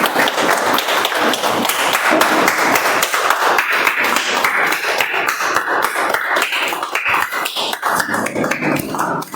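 Audience applause after a Toastmasters speech, a dense, steady wash of many hands clapping close and loud throughout, with no talking over it.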